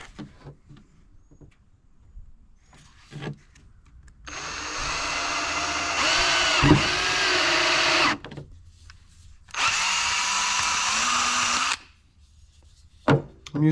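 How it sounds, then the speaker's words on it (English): A power drill with a 1/4 inch bit bores holes in PVC pipe in two sustained bursts, the first about four seconds and the second about two, loud and close, with quiet handling noises before, between and after. "We're gonna go ahead and start drilling our holes."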